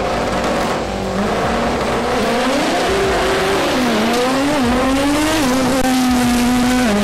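A Toyota Corolla at an Australian drag racing event, its engine revving hard and climbing in pitch with tire squeal, loud and close throughout with no talk.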